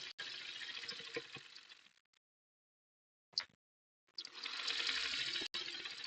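A sewing machine edge-stitches a backpack, running in two bursts of steady whirring stitching separated by a pause of near silence with a brief mechanical clack in the middle.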